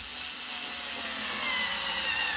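A Makita 3.6V pencil screwdriver drives a 2.5 inch screw into thick cob material, a steady high-pitched motor whine that rises slightly in loudness over a couple of seconds, with no talking.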